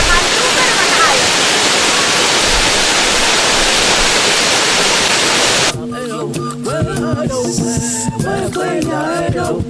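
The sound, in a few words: spring-fed twin waterfall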